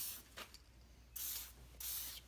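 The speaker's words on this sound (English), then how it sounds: "I'm definitely going to spray a crap ton in here" Aerosol spray hissing in two long bursts and a shorter puff into a seized 13 hp Honda engine with a stuck valve, close and fairly quiet, with faint mechanical clicks between.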